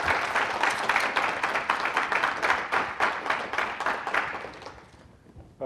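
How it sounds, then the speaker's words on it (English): An audience gives a lecturer a warm welcome with a dense round of steady applause from many hands, which holds strong for several seconds and then tapers off near the end. "let me invite you to welcome this year's Emet lecturer, Professor McMahan, with a round of applause"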